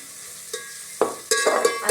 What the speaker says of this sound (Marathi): आपलं खोबरं पण वाजायला लागले बघा